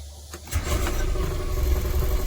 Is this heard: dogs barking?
no